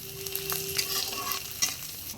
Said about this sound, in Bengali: পেঁয়াজ, রসুন, লঙ্কা সব একেবারে হালকা হালকা ভাজা হয়েছে, এরকম ভাজা হবে।